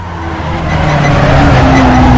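A Mazda 787B four-rotor race car in Assetto Corsa on the Nordschleife, its loud rotary engine rising steadily in pitch as it accelerates, with a brief tyre squeal.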